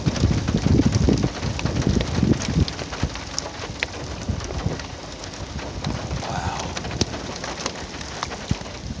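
A heavy thunderstorm with steady rain pattering on surfaces and low rumbles of thunder, with occasional bird calls and sharp crackles over a continuous wash of rainfall, no voices.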